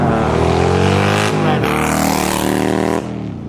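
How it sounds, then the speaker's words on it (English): Steady roar of road traffic in a small northern town, engines droning loudly as cars pass close by one after another, with a brief surge and shift midway and no talk. "a decent amount of traffic here"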